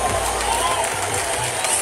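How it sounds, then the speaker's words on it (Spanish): A large outdoor audience at a monumental venue applauds a children's symphony orchestra and choir, a dense, steady wash of clapping and crowd noise from a distance with a voice heard over it. "Un super aplauso, un aplauso fuerte"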